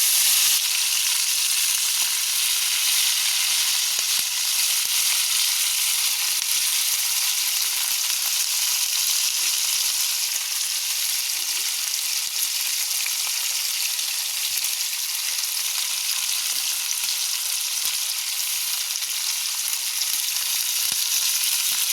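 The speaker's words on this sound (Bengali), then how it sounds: "আমাদের মাছটা কিন্তু প্রায় ভাজা শেষ হয়ে আসছে।" Pangasius fish fries in hot oil with a continuous, even sizzle and fine crackling that holds steady throughout, close and fairly loud.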